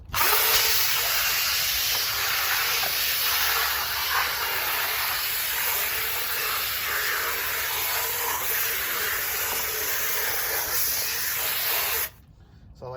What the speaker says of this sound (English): we've got our drill brush attachment that I like to use for my floor mats